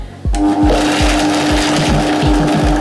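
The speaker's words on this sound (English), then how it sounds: "So I'm just gonna pulse this in this blender. I'm using a Vitamix blender here today." A Vitamix blender pulses wild garlic for pesto: a loud, close motor roar set off by a sharp start, with a steady rhythmic chopping throb underneath and no talking.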